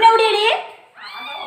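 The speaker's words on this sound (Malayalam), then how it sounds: "പൂച്ച പ്രസവിച്ച് സൗണ്ട് മാത്രം കേൾക്കുന്നുണ്ട്" Newborn kittens mew in thin, high cries, one longer call fading out before a second begins, close and clear against a quiet background.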